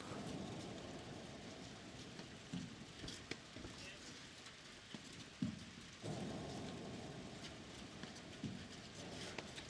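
Steady rain hisses down over an outdoor soccer match, a constant soft patter with a few louder knocks, while commentators talk faintly in the background.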